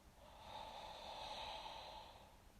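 A single slow, deep abdominal inhale imitating Darth Vader's breathing, a soft airy rasp that swells and fades over about two seconds, quiet and close with no talking.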